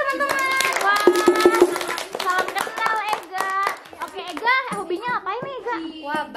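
Children at a school for the blind in Tasikmalaya clap their hands together in a group, a quick burst of claps mixed with children's and adults' voices talking.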